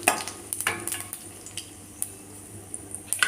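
Cumin seeds and dried red chillies sizzle in a small amount of hot oil in a pan while they are stirred. A quiet, steady fry carries light crackles and a few soft spoon taps, close by and without talk.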